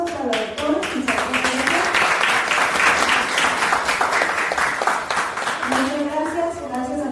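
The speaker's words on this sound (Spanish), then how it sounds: "Le pido un fuerte aplauso" An audience breaks into warm applause for several seconds at a history lecture, with a voice speaking just before and again as the clapping fades.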